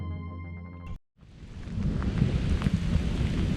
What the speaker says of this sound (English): There's a huge thunderstorm rolling in.